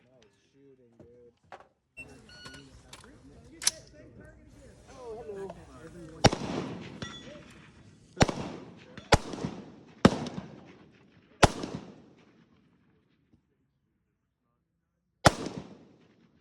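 Gas guns fired at an outdoor gas gun show: a series of sharp, loud booming blasts, some in quick succession and one more after a pause, with people talking and calling out between shots.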